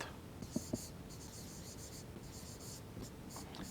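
Pen or pencil scratches across paper while a maths solution is written out by hand, in faint intermittent strokes with a couple of soft taps, close and quiet.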